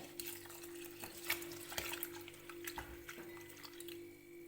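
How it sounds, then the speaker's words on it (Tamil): Water splashes and drips as two cups of poha (flattened rice) are rinsed by hand in a bowl, close and fairly quiet, with soft swishing and trickling in irregular bursts. "2 கப்பு அவலையும் சேர்த்துட்டு நல்லா தண்ணி ஊற்றி அலசிக்கலாங்க"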